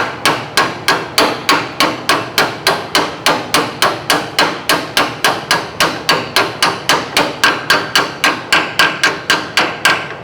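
Steady, rapid hammer blows drive a seal into a rear end housing of a 1958 car through a large socket, about thirty sharp, evenly spaced metallic knocks, close and loud, with no talking.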